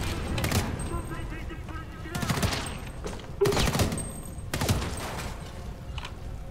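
Bursts of automatic gunfire in the shooter game Homefront: The Revolution, four loud rattling volleys separated by short gaps, with a player talking between them.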